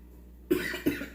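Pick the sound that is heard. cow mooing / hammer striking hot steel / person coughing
person coughing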